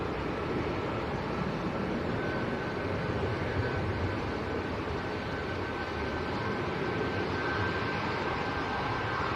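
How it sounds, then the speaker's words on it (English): An Emirates A380 arriving at Manchester Airport in gale-force winds, heard as a steady broad roar of jet engines mixed with wind buffeting, constant and moderately loud for the whole stretch. "Emirates A380 making a splash."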